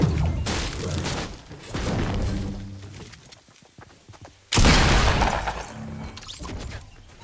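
A new shotgun firing in Fortnite, heavy booming blasts with crashing, shattering impacts, one burst early, another around the middle, and a loud sharp hit near the end, each trailing off with mechanical rattles.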